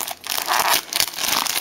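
Paper crinkles and rustles loudly up close as a parcel is opened, in quick bursts of crumpling and light tearing.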